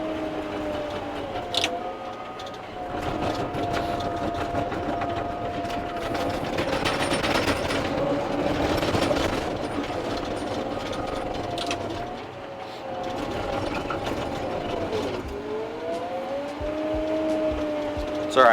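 A CAT D5K bulldozer working its diesel engine as it pushes asphalt millings, heard from the cab as a sustained rumbling drone that rises and dips with the load, with a few short clanks and a voice talking over it in places.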